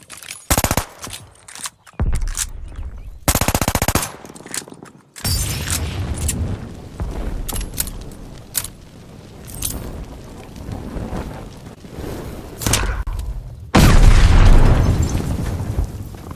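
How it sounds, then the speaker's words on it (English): A machine pistol firing in Call of Duty: Vanguard, with loud rapid bursts of automatic gunfire separated by short pauses and reload clicks, ending in a heavy sustained burst. "Just displaying what a normal machine pistol would look like and operate."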